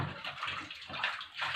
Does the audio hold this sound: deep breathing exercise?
no